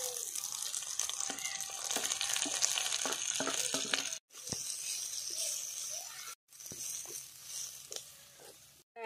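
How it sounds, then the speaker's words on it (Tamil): Spinach goes into a pan of frying onions and crackles in the oil, a close, busy sizzle with stirring scrapes that drops out briefly twice before resuming. "வெங்காயம் வதங்கிட்டு இப்போ கீரை சேர்த்துக்கலாம்."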